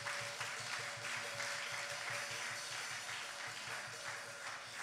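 Church congregation applauding in an even, continuous patter of claps with a faint rhythmic pulse underneath, quiet and somewhat distant, no speech over it.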